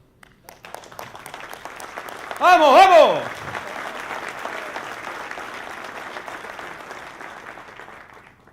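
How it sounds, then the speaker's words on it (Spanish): An audience at an innovation event breaks into applause, a broad wash of clapping that swells and lasts several seconds while a voice shouts over it briefly, then the clapping thins and fades toward the end. "Un aplauso."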